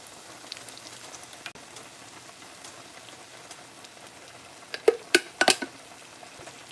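Hunt's tomato sauce poured into a pan for a quick spaghetti sauce, a quiet patter of sizzling drops that swells into a short cluster of wet splats and spatters near the end.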